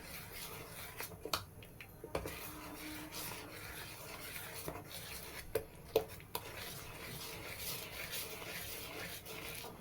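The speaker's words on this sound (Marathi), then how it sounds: "चला आता ह्याला हलवून घेऊ चांगलं मस्त असं एकजीव करून याला" Semolina (rava) batter being stirred in a bowl until smooth, with continuous wet scraping and rubbing strokes and occasional louder knocks of the spoon against the vessel, steady and close.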